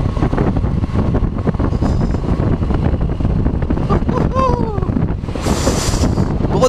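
On a ride in Dingalan, Aurora, ringed by the Sierra Madre mountains, heavy wind pounds the microphone in a loud, constant roar, with a brief voice surfacing midway.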